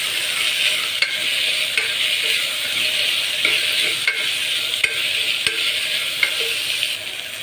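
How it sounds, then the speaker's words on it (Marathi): A spoon stirs khichdi ingredients with chopped coriander and peanuts in a sizzling pan, close frying hiss broken by regular scraping clicks about once a second, without voices. "छान आपण हलवून घ्यायचं आहे"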